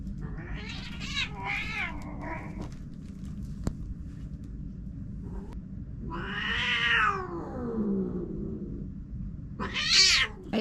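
A cat meows and yowls several times, some cries drawn-out and wailing, over a low background rumble.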